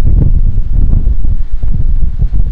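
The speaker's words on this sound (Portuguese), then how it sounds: "Esse vento atrapalha muito." Strong wind buffets a microphone outdoors at a camp in the dry countryside of northeastern Brazil, a loud, constant low rumble with gusty flutters and no voices.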